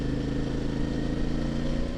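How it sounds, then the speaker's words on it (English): A CF Moto motorcycle engine runs steadily and smoothly on fresh oil, a constant mid-pitched drone with no gaps while riding downhill on forest roads, holding even throughout. "Downhill on the FC Moto, the engine braking works very well."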